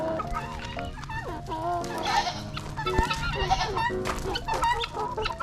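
Chickens clucking close by, a busy overlapping chorus of clucks and short calls from several birds, with a little human speech mixed in.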